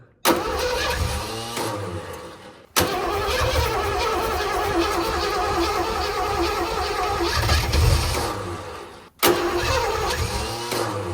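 A Ford F150 pickup with a carbureted engine converted from fuel injection cranks and fires, runs and revs unevenly, cuts out briefly, then restarts, loud and close.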